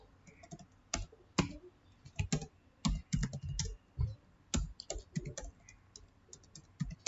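Close, quiet typing on a computer keyboard while coding C++, irregular clusters of crisp key clicks and heavier keystrokes, with no talk.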